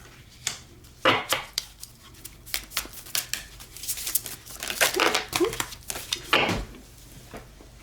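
Playing cards pulled and shuffled from a deck, close papery flicks, snaps and slides in irregular bursts, with quiet talk mixed in.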